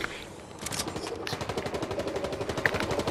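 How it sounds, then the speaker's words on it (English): Rapid automatic gunfire rattles in the Fortnite video game, a dense run of sharp repeated shots that starts up after a brief quieter moment and keeps firing close and loud to the end. "Somebody shooting at you."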